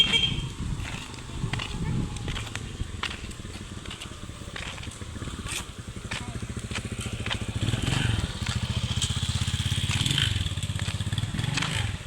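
A motorcycle engine putters and rumbles continuously close by, with clattering and scraping from the ride and voices talking over it.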